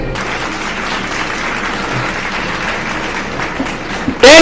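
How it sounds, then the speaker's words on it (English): Steady audience applause at a school quiz competition, loud and sustained throughout, ending with a sudden louder burst of sound. "Big round of applause."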